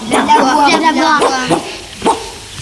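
A voice imitates a dog barking, giving a few short woofs with brief pauses between them, loud and close-up.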